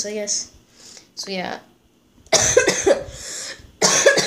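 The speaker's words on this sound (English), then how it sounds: "nasty cough right now" A few sharp, harsh coughs up close, followed by someone speaking briefly between them.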